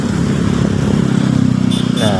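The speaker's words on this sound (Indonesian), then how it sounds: "sana di muka ada motor yang belok kanan" A motorcycle turning right on a busy night city street in Gorontalo, its engine droning steadily close by amid traffic noise while someone talks over it.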